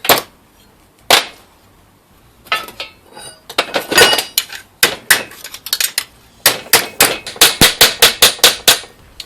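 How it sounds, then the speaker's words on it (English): Repeated sharp metallic hammer blows flattening a split length of copper pipe on a makeshift pipe anvil, loud and close, coming in scattered strikes that build into a fast, steady run of ringing hits. "And I'm just going to hammer it flat."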